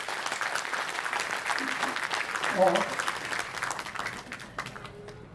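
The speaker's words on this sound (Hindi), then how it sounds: "जोर से तालियां बजाएं।" Audience applause for performers at a cultural programme during an inauguration event, a dense sustained clapping wash that swells mid-way and tapers off, with a voice speaking over it.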